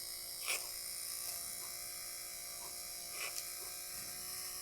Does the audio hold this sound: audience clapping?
no